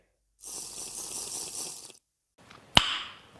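Water pours from a Minecraft Pocket Edition waterfall in a brief steady hiss that stops abruptly, followed by a quieter splash and a sharp click.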